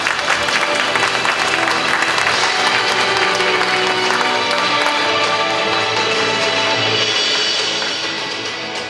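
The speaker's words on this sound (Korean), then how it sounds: "권태용 최고위원님께 큰 박수를 부탁드리겠습니다." Party members at a regional gathering clap to welcome a senior official to the podium, a full, steady roar of applause across the hall with music underneath, tapering slightly toward the end.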